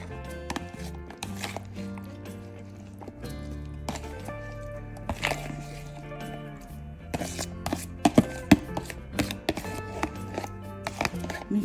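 Hands squishing and mixing a wet potato, cornstarch and salsa patty mixture, soft close squelches and pats repeating irregularly over quiet background music.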